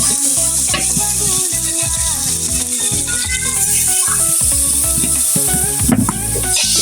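Ginger, garlic, turmeric, chili powder and salt fry with potatoes in a pan on a clay stove. A loud, steady, crackling sizzle runs throughout, with occasional stirring rattles.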